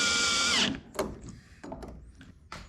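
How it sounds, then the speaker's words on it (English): A power drill with the clutch set whirs loudly for about half a second driving screws into a Hobie 16 catamaran's gudgeon, then stops, followed by a few faint clicks and knocks. "I just used the drill with the clutch and then just went around and around until they stopped turning"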